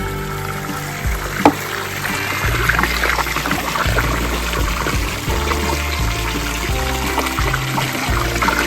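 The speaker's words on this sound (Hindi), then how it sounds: "ठंडे पानी से धो रहे हैं आप कपड़े?" Cold water pours and splashes steadily while clothes are washed outdoors in Udaipur, Lahaul, a close continuous trickle and gush with small irregular splashes throughout.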